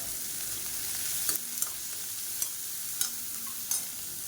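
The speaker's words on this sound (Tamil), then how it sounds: "இப்போ இதில் ஒரு அஞ்சு வரமிளகா நல்லா சின்ன சின்னதாக கட் பண்ணி வச்சுருக்கேன் அதை சேர்த்துக்கலாம்" Onions and finely chopped dried red chillies fry in a pan with a constant, close hissing sizzle, punctuated every second or so by light clinks of a spoon stirring against the metal.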